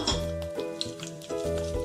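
Whole spices sizzle in hot oil, a steady close crackle with soft stirring and utensil scrapes on the pan coming in short repeated strokes, with no voices.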